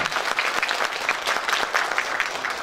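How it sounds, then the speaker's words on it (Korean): A crowd claps steadily for a few seconds at an association's founding ceremony, a dense, even patter of many hands close by with no voices on top. "여러분 큰 박수 한번 보내주시면 대단한 것 같습니다."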